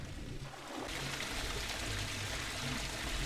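Water pouring and trickling in a pool inside a video game, a steady splashing stream that rises after a brief quieter opening and continues evenly, close and moderately loud, with no voices.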